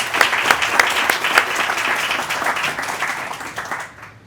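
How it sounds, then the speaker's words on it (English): An audience at a plenary talk on Catholic statesmanship breaks into loud, dense applause that holds steady and then fades out quickly at the end. "I would actually like to give a round of applause"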